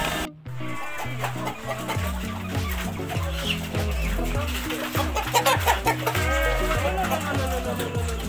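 Chickens clucking at a maggot farm, steady busy clucking from several birds close by, mixed with music and background voices.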